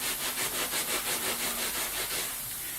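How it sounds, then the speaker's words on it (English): A scrub brush works over car interior upholstery in quick, regular back-and-forth strokes, a close, rhythmic bristly rasp that fades at the end. "Now the old school method, this is where I would simply take a scrub brush"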